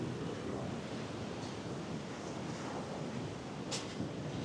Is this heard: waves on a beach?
yes